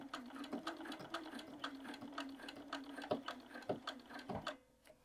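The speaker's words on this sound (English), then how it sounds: "We're going to sew across." Sewing machine stitching across a bag handle, a steady rapid needle patter running close and alone with small rhythmic ticks, stopping near the end.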